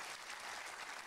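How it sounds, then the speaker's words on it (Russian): Studio audience on the UK quiz show Who Wants To Be A Millionaire? applauds a contestant's £20,000 win, a steady, dense wash of clapping filling the whole moment without pause. "Аплодисменты Джиму."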